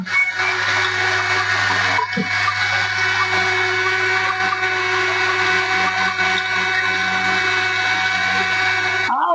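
A mixer grinder whirs loudly and steadily at close range, grinding cooled masala into a fine paste for shahi paneer, a continuous motor roar that holds for the whole stretch with a brief dip near the end.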